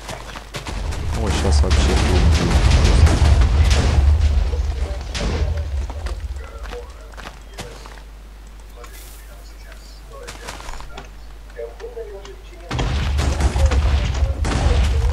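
A structure is blown up in Minecraft, and a loud, rumbling explosion roars for several seconds. After a quieter stretch with a few scattered pops, a second blast hits near the end while people talk.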